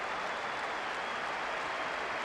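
A stadium crowd in the football video game PES 2012 applauds and roars after a goal, a dense continuous wall of cheering and clapping held at steady volume, with no talking over it.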